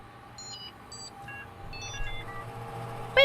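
Computer beeps from a crashing desktop system dropping into safe mode in the Desktop Explorer video game: a series of short clean electronic tones at varying pitches, stepping up and down over a low hum, ending in a louder burst.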